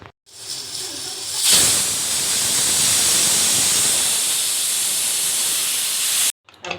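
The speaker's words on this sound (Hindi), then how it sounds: "अब ढक्कन लगा के गैस को मीडियम करके 2 सीटी लूँगी।" Pressure cooker whistle releasing steam while dal dhokli cooks on a gas stove at medium flame, a loud sustained hiss that bursts in sharply and holds steady for several seconds before cutting off.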